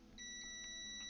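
Steady high-pitched continuity beep from a multimeter probing a resistor on a faulty Nintendo DS Lite board, a single sustained tone holding for about a second, close and clear with no talking.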